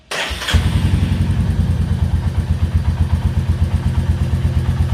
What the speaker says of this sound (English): So now let me show you the engine exhaust note.